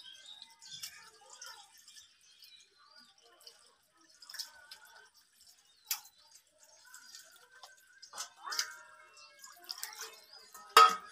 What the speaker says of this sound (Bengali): হয়ে গেল আমার মাছ ধোয়া।